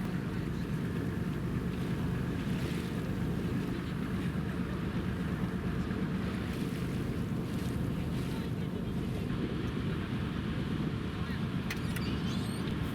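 Ferry crossing the broad source of the Angara river where it flows out of Lake Baikal, with a steady low engine drone and rushing water and wind noise throughout, alone without talk.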